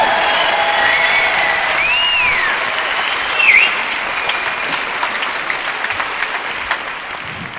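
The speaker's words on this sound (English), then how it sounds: "Big round of applause." Sustained audience applause at a conference on childhood adversity in Scotland, steady dense clapping throughout with a brief swell of cheering midway, then slowly thinning toward the end.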